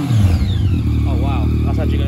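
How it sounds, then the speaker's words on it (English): A Yamaha MT-09 motorcycle with an Akrapovic exhaust, baffle in, idles with a deep rumble, then a quick throttle blip swells and drops; a voice speaks over the engine. "I'll give it a little blip."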